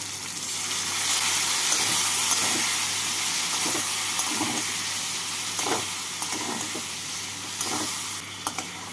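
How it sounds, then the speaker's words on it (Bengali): Potatoes and spices including green chilli paste, Kashmiri red chilli powder and sugar sizzle and hiss in a pan with a little water, a steady close frying sound with occasional stirring clicks and scrapes. "অল্প জল দিয়ে আলুর সাথে মশলাগুলোকে কষিয়ে নেব।"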